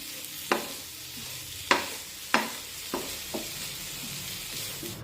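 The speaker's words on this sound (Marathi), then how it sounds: "आता हा गूळ खोबऱ्यामध्ये अगदी व्यवस्थित मिक्स करून घेऊया" A spoon scrapes through jaggery and coconut in a pan over a low flame for modak filling. Five or six sharp, separate scrapes come at irregular intervals, faint and close, with a quiet background and no talk.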